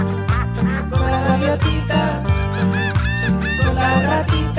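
Duck quacks, probably cartoonish or sung, repeat in a steady rhythm over bouncy music, loud and close throughout.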